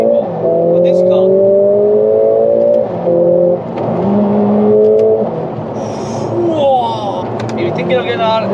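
A Mercedes-AMG A45 S with a 2-litre engine revs hard, its pitch climbing and dropping across several close, loud pulls with a brief dip in the middle.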